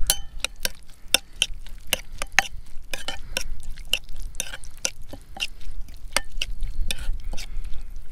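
Sushi ingredients, including small fish pieces, mixed by hand in a bowl, a close run of quick wet clicks and taps in an irregular ticking rhythm over a quiet background, without talk.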